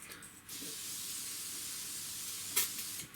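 Cooking oil sprayed over onion rings makes a steady, close hiss lasting a few seconds, with a brief louder burst near the end.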